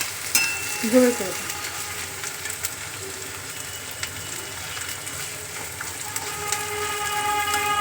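Onions frying in hot oil in a pan for an egg tadka, a steady broadband sizzle with a few stirring clatters near the start, fairly close and continuous with no talking.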